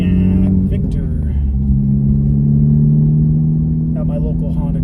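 Honda Civic Type R cabin sound on the road, a steady low engine drone and road rumble with a slight rise in revs midway, under someone talking close by.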